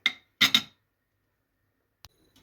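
A spoon clinks against a pot of cheese soup with bay leaves, three sharp metallic taps in quick succession, then a pause and one faint clink, close and quiet with no talk.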